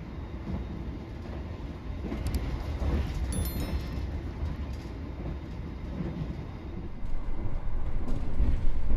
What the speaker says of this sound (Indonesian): Berpapasan dengan kereta Mata Remaja.